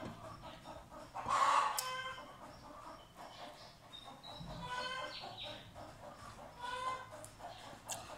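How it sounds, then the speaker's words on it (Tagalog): Chickens cluck and squawk around the yard, a loud burst early on followed by scattered calls against a low outdoor background. "Nag-iingay yung mga manok."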